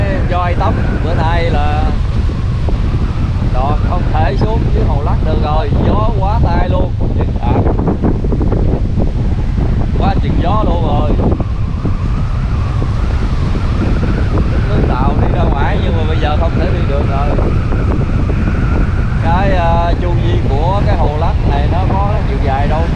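Strong wind buffets the microphone beside Lak Lake, with a constant loud roar lasting throughout while people talk over it.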